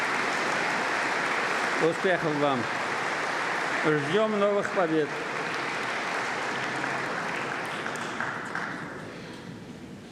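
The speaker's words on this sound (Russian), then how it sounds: "Попрошу наших спортсменов подняться. Аплодисменты." Audience applause for athletes standing at the Tatarstan State Council annual address, a steady, dense roar of clapping that fills the hall, with a voice speaking over it midway before the clapping thins out.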